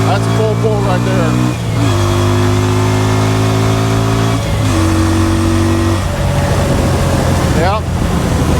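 An auction car's engine is pushed to full throttle, revving up in strong rising sweeps that ease off briefly between pulls and climb again, loud and close from inside the vehicle.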